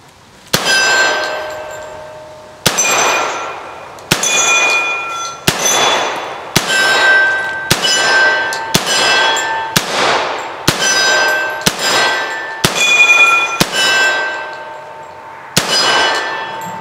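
A Flint River Armory CSA-45 .45 ACP piston carbine fired at steel targets, each shot followed by a sharp ringing clang; about a dozen hits at uneven intervals, loud and close.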